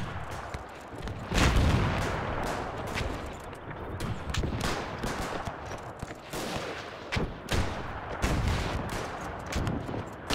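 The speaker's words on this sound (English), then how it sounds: "Machine gunners seem to run out of ammo pretty quickly." Machine guns rattle in a WW1 battle in the game Between Empires, with dense, uneven bursts of gunfire and occasional heavier thuds that continue throughout.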